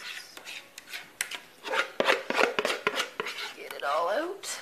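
Spatula scraping food out of a bowl in a home kitchen, scattered short scrapes and rubs at close range, some brief and some longer, quiet overall with a voice speaking now and then.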